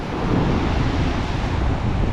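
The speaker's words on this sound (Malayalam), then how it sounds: "കണ്ടോ, കടൽ മൺസൂണാണ്. കടൽ അത്ര പ്രക്ഷുബ്ധമല്ല." Monsoon sea wind and surf on Kollam beach make a steady, loud, unbroken roar of gusting wind and rolling waves, with no voices.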